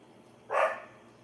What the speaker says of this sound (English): Yeah, my dog's barking out there.